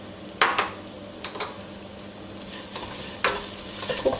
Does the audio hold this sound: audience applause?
no